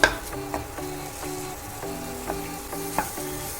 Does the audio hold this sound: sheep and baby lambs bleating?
no